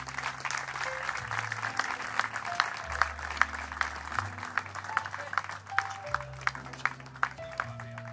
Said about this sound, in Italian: Un applauso per cortesia.